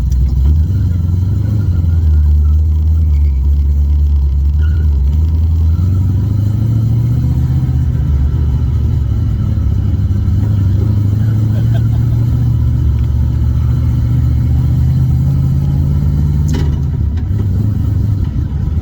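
A 2014 Shelby GT500 with a T56 manual gearbox drives under its own power, its V8 engine rumbling loudly and steadily close by with shifting revs through a slow cruise, someone talking briefly over it.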